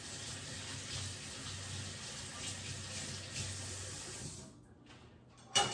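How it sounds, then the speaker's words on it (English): Hands are washed under a running kitchen tap. The water pours in a steady, close rush, then is shut off near the end and followed by a sharp clack. "Let me wash my hands real quick"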